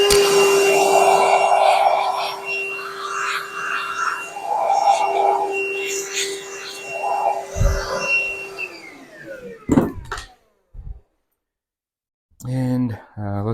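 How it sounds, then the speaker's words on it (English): A vacuum cleaner runs steadily while cleaning the engine cylinders of a Mustang, its droning whine rising and falling, then it shuts down with a few knocks before a voice speaks. "Let's hit this with the vacuum."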